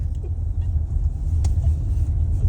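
A car engine drones in a low, steady rumble while driving, with a faint brief click and no talk over the constant road hum.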